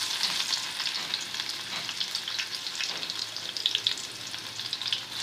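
Continuous sizzling and crackling of garlic frying in hot ghee, with small pops and occasional stirring, close and steady.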